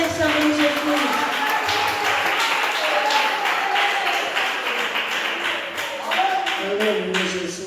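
Church congregation clapping during a morning worship service, steady continuous applause with singing and a voice speaking over it throughout.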